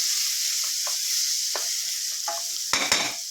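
Boti, goat tripe, is sautéed with turmeric in a pan. A dense, even sizzle runs throughout, and a few soft scrapes of stirring lead into two sharp spoon knocks near the end.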